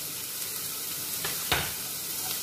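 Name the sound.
onions and green chillies sautéing in pan for egg curry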